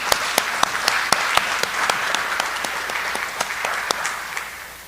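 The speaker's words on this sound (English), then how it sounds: "Let's give Lacey a round of applause for her beautiful artwork" An audience applauding at a school selection ceremony, steady sustained clapping from a room full of people, fairly loud and even throughout.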